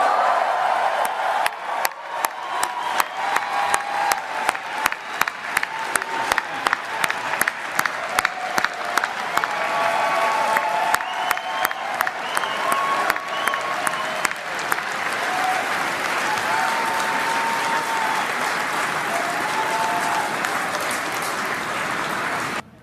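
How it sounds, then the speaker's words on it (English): A large crowd at a Mark Carney speech bursts into sustained applause and cheering on hearing Justin Trudeau's name, dense clapping rolling steadily for over twenty seconds without a break. "The cheering, the praising."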